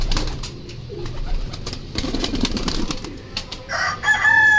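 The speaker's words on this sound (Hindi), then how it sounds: "एक वाइट कबूतर है, ये देख सकते हैं आप" Pigeons kept in a loft, including red-eyed Sialkoti birds handled for sale, give soft cooing and bird calls at close range, with some fluttering and handling noise and no talk.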